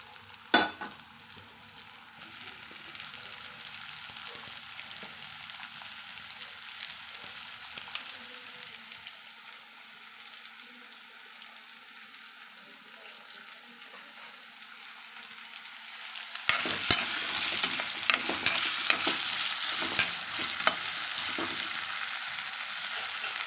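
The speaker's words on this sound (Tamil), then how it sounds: "முதல்ல நாம் இந்த உருளைக்கிழங்கு ஃப்ரை பண்ணி எடுத்துருவோம்" Potatoes fry in a pan with a continuous close sizzle and intermittent scraping from stirring, growing louder and busier near the end, with no talking.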